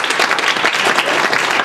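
An audience at an academic talk on Palenquero negation applauds to welcome a speaker, with dense, steady clapping that fills the room throughout.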